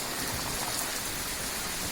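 Heavy rain pours steadily over a village, a dense, even hiss of drops that stays constant and fairly close for the whole stretch, with no voices.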